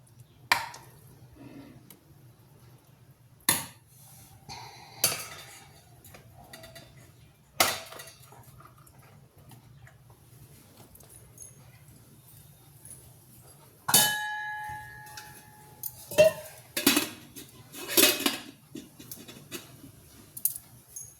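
Steamed jowar idlis being lifted off unoiled metal idli plates, producing sporadic soft clinks, taps and scrapes with quiet gaps between, a louder cluster of metallic clatter near the end.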